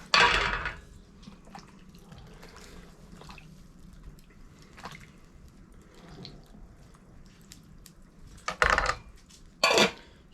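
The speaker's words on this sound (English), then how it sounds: "Put our lid on." A metal lid clanks onto a cooking pot of soup over a fire, with a loud clatter at the start and two more sharp knocks near the end, while a low bubbling and rustle continue between them.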